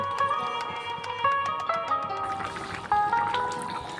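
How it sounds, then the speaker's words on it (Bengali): Water pours into a pot of homemade chicken curry, a running, gurgling fill with ringing tonal splashes, close and fairly loud, with no one talking over it. "আরও একটু জল দিয়ে দেব।"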